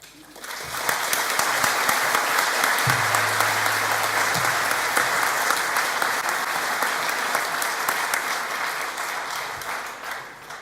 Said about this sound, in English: The cheering was fantastic